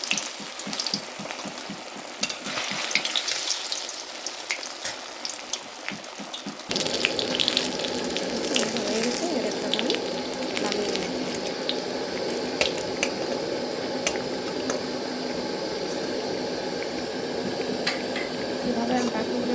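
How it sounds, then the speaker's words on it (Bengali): Potato-stuffed eggplants frying in oil, first quieter with watery clatter, then a sudden louder steady sizzle that continues close and even, with a voice speaking over it. "তেল ভালোভাবে আমি দিয়ে ভাজিয়ে"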